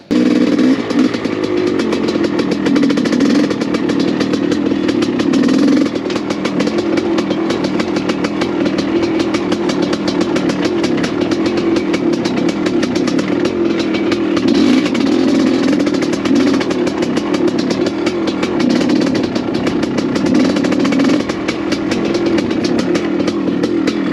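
A 1985 Honda CR500AF two-stroke dirt bike runs with a raised idle, its engine a steady, close, continuous drone over tight technical trail for the whole stretch, with no talking.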